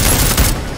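Loud, close gunfire in the video game Deus Ex: Mankind Divided, a quick rapid burst lasting under a second with no talk over it.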